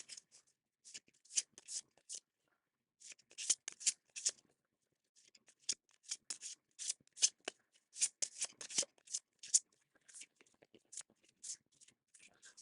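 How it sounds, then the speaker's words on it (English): Playing cards being shuffled in quick riffling bursts, several separate rounds of crisp flutters with short pauses between, close and fairly quiet. "so we'll shuffle."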